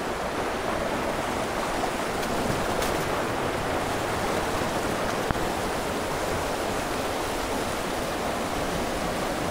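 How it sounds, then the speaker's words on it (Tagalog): A mountain stream fed from Mount Banahaw rushes continuously near a waterfall, a loud, steady broadband wash of flowing water with no pauses and no voices. "Nagmumula sa bundok Banahaw ang tubig dito."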